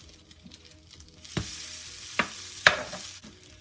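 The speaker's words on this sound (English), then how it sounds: "So now we're going to let our French toast cook until they're golden brown." French toast fries in a pan with a soft continuous sizzle, broken by a few sharp clinks and scrapes of a utensil against the pan; no one speaks.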